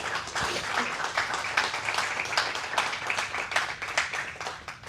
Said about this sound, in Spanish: Vamos a dar un gran aplauso a la palabra.